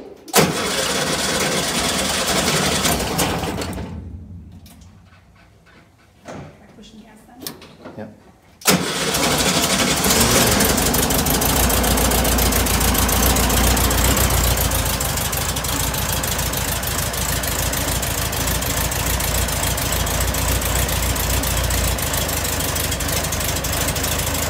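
A Volkswagen Thing's engine runs loud, cuts out, cranks with a few uneven turns and catches again, then settles into a steady close idle with a low throbbing undertone while people talk.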